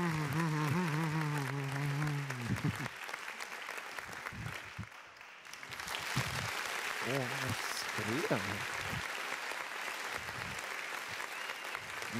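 Applause from an audience at the Latvian Event Forum Excellence Award 2024 ceremony, steady clapping throughout, overlapping with a speaking voice at the start and talk again later.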